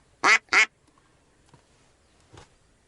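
Two loud, close quacks in quick succession, like a mallard drake, ring out during a spring duck hunt in Komi, followed by a couple of faint, distant calls in otherwise quiet surroundings.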